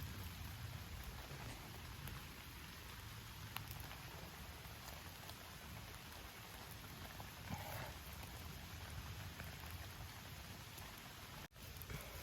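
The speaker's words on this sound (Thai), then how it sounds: "ฝนก็ตก" Steady rain falls continuously in a forest, a soft even hiss of drops on surfaces with no voices, unbroken throughout.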